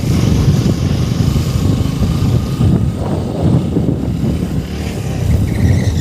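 Motorcycle engine started and running, a loud close low rumble holding steady for several seconds with no talk over it.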